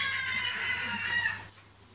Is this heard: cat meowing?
yes